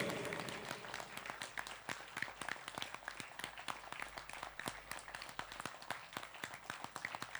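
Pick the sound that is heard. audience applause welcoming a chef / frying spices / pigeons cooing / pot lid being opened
audience applause welcoming a chef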